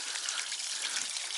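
Water falls steadily at a waterfall in Queens Park. The rushing hiss is soft and continuous, heard from a little distance, with no voices over it.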